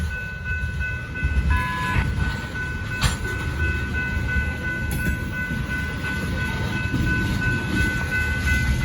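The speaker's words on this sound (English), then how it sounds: "Finally, the train's leaving." A freight train pulls away at Whitefish, Montana, with a steady, loud rolling rumble and wheel noise that runs continuously through the whole stretch, nearby and without voices.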